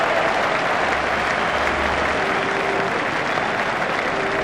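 A cricket crowd at a T20 World Cup Super Sixes match between Pakistan and West Indies cheers and applauds a six, a loud continuous roar of clapping that holds steady throughout.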